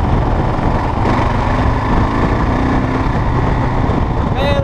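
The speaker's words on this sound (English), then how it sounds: "just bought a 2005 KLR650. Riding it home right now." A 2005 Kawasaki KLR650 single-cylinder motorcycle rides steadily on a cold, dark road, its engine droning continuously with heavy wind rumble and no clear breaks throughout.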